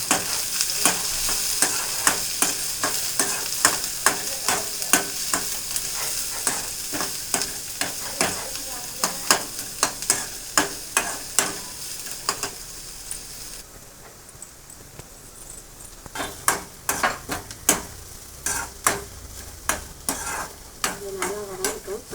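Shallots sautéing in a pan, a steady sizzle broken by frequent sharp stirring scrapes and taps from a utensil, close and fairly loud with no talking.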